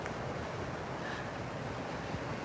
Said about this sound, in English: So here's the river.